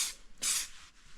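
Two short bursts of aerosol spray hiss close by, the second longer and louder, separated by a brief pause.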